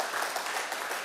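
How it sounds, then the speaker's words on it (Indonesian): A church congregation applauding and cheering for God, a dense continuous wash of clapping and crowd noise throughout the brief moment. "Berikan sorak-sorai buat Tuhan"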